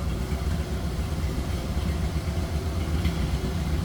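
A 1931 Ford Model A sedan's 201 cubic inch inline L-head four-cylinder engine idles steadily up close, with an even, continuous low rumble and no other sounds.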